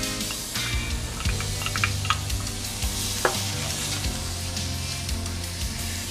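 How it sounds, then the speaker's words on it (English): Garlic is added to vegetables, including carrot chunks, sizzling in a pan for brassato al Barolo, with a steady close frying hiss and intermittent stirring scrapes and clicks of a utensil throughout. "We're gonna add garlic."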